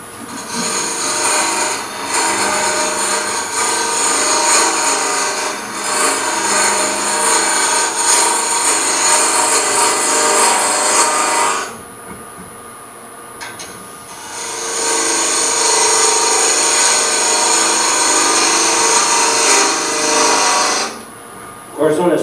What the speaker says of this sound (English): of course this is burl wood, so it's irregular grain, but even with carbide, we still want to cut downhill on a spindle